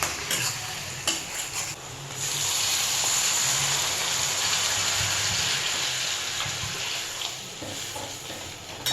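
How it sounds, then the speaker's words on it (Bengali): Water poured into spice paste frying in oil for a mango fish pickle, giving a steady close hiss and sizzle with faint stirring and utensil clinks, no voices. "এরপর আমি এতে জল অ্যাড করে দেবো"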